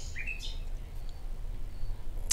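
Birds chirp outdoors in a natural setting, with a few brief high calls early on over a steady low background rumble, moderately faint and without any talk.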